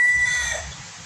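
A brief, close chicken call with a strained, raspy tone, lasting about a second.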